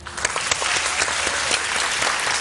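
A studio audience on a Pakistani morning show bursts into dense, loud applause welcoming a guest, a continuous close-up wash of clapping with no talk over it.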